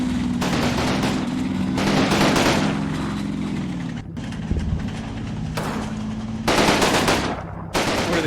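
Bursts of machine gun fire from a Normandy battle between Canadian and German forces in the wargame Combat Mission Normandy, loud and sustained in several long rattling strings over a constant low engine drone.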